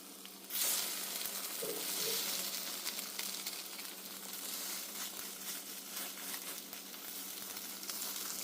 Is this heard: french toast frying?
yes